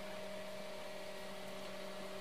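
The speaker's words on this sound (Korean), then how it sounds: "선풍기 이거 틀어놨는데 소리 시끄럽지요?" An electric fan runs at a forest campsite in the evening, giving a steady motor hum with a constant tonal whine, unbroken throughout with no voices.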